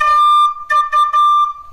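A steady organ pipe tone sounding loud and close, with brief bursts where the pipe overblows, wavering and jumping toward its higher octave before settling back.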